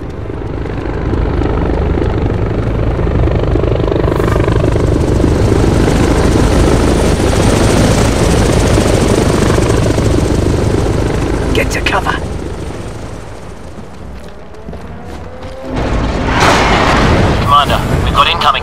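Helicopter in the SOCOM 4 U.S. Navy SEALs video game, a loud rotor thrum that runs steadily, dips briefly near the end and then returns, while soldiers' voices talk over it.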